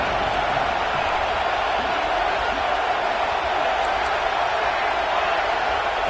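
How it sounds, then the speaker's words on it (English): A college football stadium crowd at a Nebraska vs Texas A&M game roars for the defense during a red-zone stand. The noise is a steady, distant wash of cheering that holds at an even level throughout. "The crowd getting behind this defense as they try to get a stop in the red zone."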